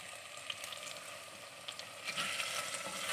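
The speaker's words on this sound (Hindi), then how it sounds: "चिकन को हम 5 मिनट तक फ्राई करेंगे।" Boneless chicken frying in a pan, a close, steady crackling sizzle with brief pops and stirring scrapes, growing a little louder toward the end.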